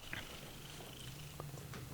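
A cat purrs softly and steadily up close to a microphone, a low continuous rumble under faint room noise.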